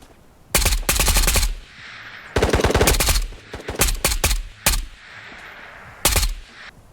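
Gunfire in the shooter Ghosts of Tabor: several sharp bursts of rapid automatic shots, loud and close, separated by brief pauses with scattered single shots between volleys.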